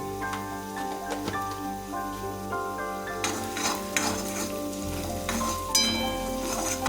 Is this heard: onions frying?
yes